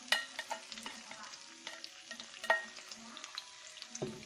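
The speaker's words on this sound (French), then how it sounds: "Donc je vais faire revenir mes oignons rouges." Red onion and mixed vegetables frying in a little oil, quiet and close, with scattered utensil clicks and scrapes over a faint sizzle, and no speech.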